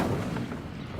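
The Incendio fire spell in Hogwarts Legacy goes off as one short, heavy whoosh-burst of flame with a rumbling body that fades over about a second. No speech.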